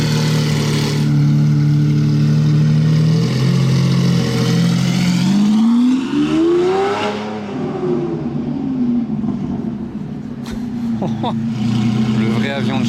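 A Mansory-tuned supercar engine revs hard and loud at close range at Top Marques Monaco, a sustained roar with rising and falling pitch sweeps across the whole stretch, with no pause in the noise.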